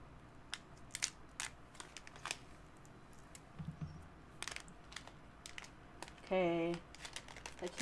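Plastic packaging being torn open by hand and teeth, giving scattered crinkles and crunchy tearing clicks at close range with a brief louder rustle near the end, partly under quiet talk.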